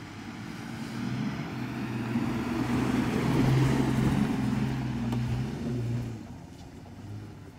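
Van engine labouring through loose sand on a beach in La Paz, Baja, a steady low drone that swells as it passes and then fades.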